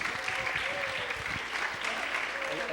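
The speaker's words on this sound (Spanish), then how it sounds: "les quiero pedir un aplauso" Moderate applause from the audience at a panel on autonomy and resistance, clapping over a few seconds with some voices and a murmur of talk underneath.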